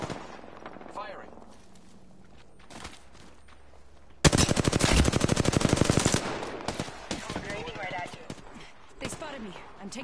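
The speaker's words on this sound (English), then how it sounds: "I'm taking fire." Video game gunfire in Apex Legends: a loud, dense burst of rapid automatic shots lasting about two seconds, followed by scattered shots and game effects, with a voice talking over the action.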